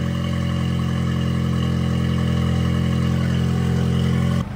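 A VW Golf R Mk8 in comfort mode, fitted with a 4-inch downpipe, holds a loud, steady engine drone at close range, then cuts off abruptly at the very end.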